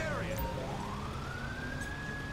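An emergency siren in the police game GTA V LSPDFR wails with a rising sweeping tone, sounding moderately loud over a rumbling engine-like background.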